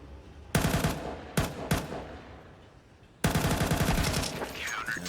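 Desert Eagle shots ring out in a Counter-Strike 2 pro match between Falcons and Complexity, with several loud, sharp blasts in close succession and then a burst of rapid fire, alone without voices.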